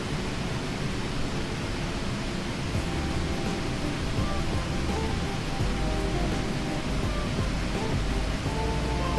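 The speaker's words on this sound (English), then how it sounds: "Got some rain." Rain weather in a flight simulator, a PMDG Boeing 777-300ER flying winter operations in low instrument flight conditions: steady, loud, broadband rain hiss that fills the whole clip without a break, with faint cockpit tones beneath and no voices.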